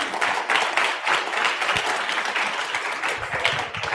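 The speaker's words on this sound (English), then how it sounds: "Let's give him a final round of applause." A crowd at a gaming tournament gives a final round of applause, dense clapping close by that stays steady for several seconds with no voices over it.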